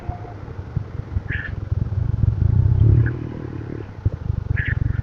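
A Royal Enfield Himalayan motorcycle rides over a rough road, a low engine rumble with rattling and clattering parts and bumps, close-up and steady throughout.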